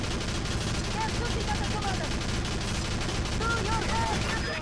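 Machine gun nest firing in the Nintendo video game Battalion Wars, a dense, continuous rattle of automatic gunfire with explosions layered under battle noise and a voice, loud and steady throughout.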